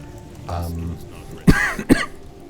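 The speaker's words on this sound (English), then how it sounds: "Sorry about the cough." Two sharp, close coughs, one right after the other, following a short throat sound.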